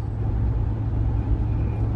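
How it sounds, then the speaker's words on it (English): Steady low road rumble from a vehicle towing a rented 18-foot U-Haul trailer, a continuous dense drone of engine and tyre noise with no talk. "I'm driving the trailer"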